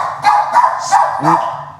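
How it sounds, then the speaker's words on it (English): A dog barks four times in quick succession, close and loud, sharp yapping barks with brief gaps between them. "That's my dog."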